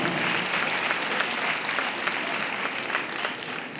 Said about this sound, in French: on peut les applaudir, tous ces sponsors